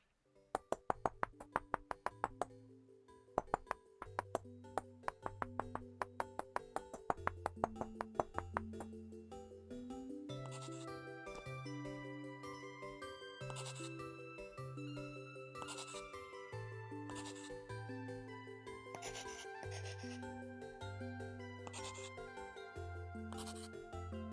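Metallic hammer-and-chisel taps on stone in Vintage Story, a rapid run of sharp pings over a bright tonal game music bed that continues throughout.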